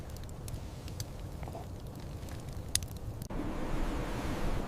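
Wind outdoors in Patagonia, a steady low rush and rumble against the microphone with scattered rustles and clicks, growing denser and louder in the final second or so.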